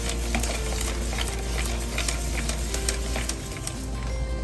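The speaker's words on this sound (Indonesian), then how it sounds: "Aduk terus." A spoon or whisk stirring a flour batter mixed with soda water for frying fish, a continuous close wet churning with a faint fizzing hiss, steady throughout with no voices.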